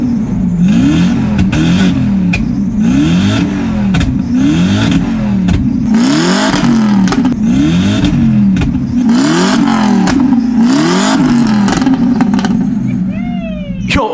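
A car engine revs repeatedly in rising and falling bursts, loud and close, with a brief high squeal at the end.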